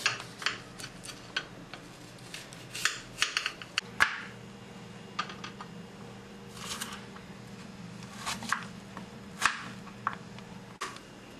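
A knife chops an unpeeled apple into small cubes on a board, giving quick, irregular light taps and clicks over a faint steady background hum, close but quiet.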